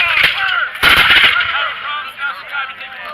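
Musket volleys at a Battle of Fort George re-enactment: two sharp, loud ragged bursts of massed gunfire close by, the second heavier, each trailing off into a long rolling echo and crowd murmur.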